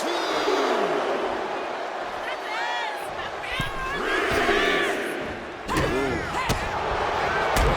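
A roaring arena crowd cheers in the WWE 2K25 wrestling video game during an NXT tag team match, a loud continuous swell with rising shouts and sharp impact thuds, while commentary voices talk over it.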